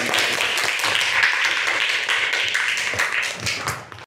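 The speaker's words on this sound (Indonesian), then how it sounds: "Tepuk tangan semuanya" A classroom of children claps hands together, a dense burst of clapping lasting about four seconds at close range before stopping abruptly.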